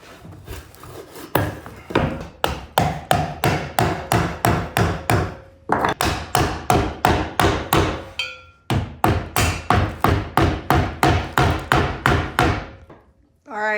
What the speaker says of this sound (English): It's my wood hammer from England.